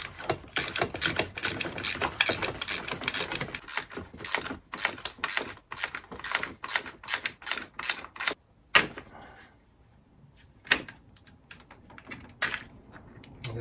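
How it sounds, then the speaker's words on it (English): Ratchet wrench loosening the window regulator motor bolts on a BMW 3 Series, rapid close clicking in repeated bursts with brief pauses, then a few isolated clicks near the end. "now we have to remove the motor with 3 bolts and put it on to the new regulator"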